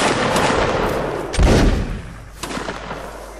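Rifle volleys at a military reenactment training with a Semyonovsky Life Guards regiment group firing at will: rough, overlapping bangs and crackling reports outdoors, one louder heavy burst midway, loud and continuous without clear speech.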